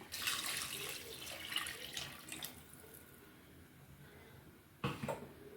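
Water is poured into a pot of radish curry, giving a faint, steady splashing that tapers off, ending with a brief louder clatter.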